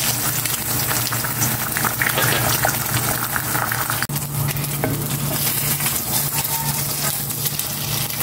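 Cooking oil sizzles steadily in a hot pan, a continuous close hiss with a low hum underneath and occasional clinks of utensils.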